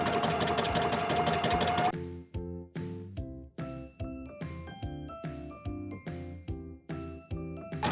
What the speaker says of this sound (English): you can also use the overcast stitch on the sewing machine. I'm going to be using the zigzag stitch.